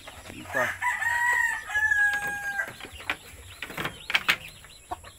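A mother hen with a brood of about twenty chicks gives a drawn-out call, followed by short scattered clucks and thin, high chick peeps, fairly close in a quiet outdoor setting.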